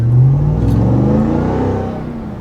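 A loud Ram TRX pickup truck engine on its stock exhaust rumbles and revs, its low exhaust drone steady and slightly muffled as if heard from inside the cab.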